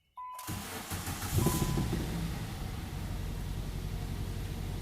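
A Nissan Sentra GXE with 131,000 miles cranks briefly and catches, then settles into a steady idle that stays close and even, with no talk.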